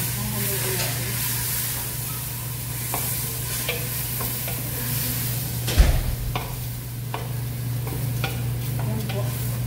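Egyptian rice tipped into a hot oiled pan and stirred, giving a steady close sizzle with scraping spoon strokes and a burst of grains landing near the middle; a low hum runs underneath.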